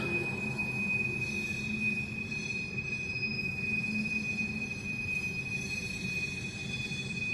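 A freight train with four locomotives rumbles steadily past with a constant high squeal of wheels on the rails, continuous and moderately loud, no voices.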